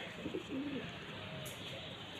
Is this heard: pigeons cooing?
yes